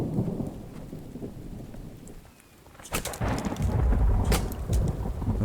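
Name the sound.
thunderstorm with rain in video game The Infected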